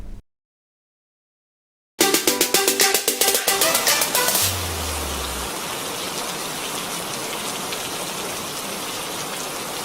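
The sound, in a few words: rain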